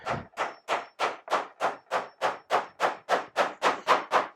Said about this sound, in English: you can nail it in